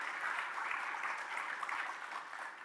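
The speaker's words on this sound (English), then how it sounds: "let's give them a round of applause" Audience applause at a university speaker series event, a steady wash of clapping heard faintly and at a distance throughout.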